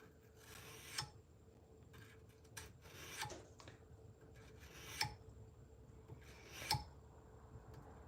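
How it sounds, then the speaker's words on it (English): Sandpaper rasps across a wood carving in a handful of short, separate scrubbing strokes, with quiet gaps between them. The sound is faint and close, with no talking. "Couple passes with the sandpaper to clean this up."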